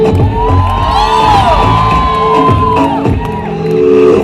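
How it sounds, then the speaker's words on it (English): Crowd of students at a college freshers party cheering and whooping, a loud, continuous mass of shouts and yells with children-like high cries, music faintly underneath. "Second year, cheer up!"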